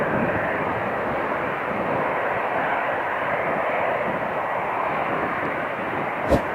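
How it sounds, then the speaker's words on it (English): A Boeing 777 takes off in a strong crosswind, its jet engines producing a loud, sustained broadband roar that holds steady throughout. "This Boeing 777 aircraft successfully took off in challenging weather conditions."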